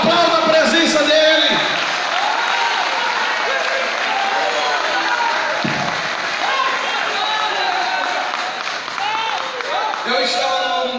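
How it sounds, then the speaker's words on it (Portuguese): Church congregation applauding during a teaching service, a sustained wash of clapping with cheers and voices mixed in throughout, fairly loud and steady from start to finish. "Aplauda a presença dele."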